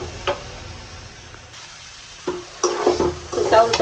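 Rice being stir-fried with salt in a pan for chicken biryani, with scraping stirs and a light sizzle that build toward the end, clear and close with no talk.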